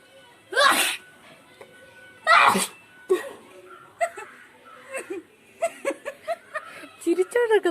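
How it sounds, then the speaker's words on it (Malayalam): A woman sneezes twice in a sneezing challenge, two loud, close bursts, followed by a run of giggles and breathy laughter in short, quick pulses. "ചിരിച്ചോണ്ടൊക്കെ തുമ്മുന്നു."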